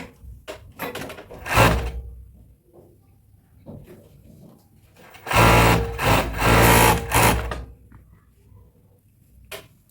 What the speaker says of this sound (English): So I'm going to join straight, okay, with my overlock.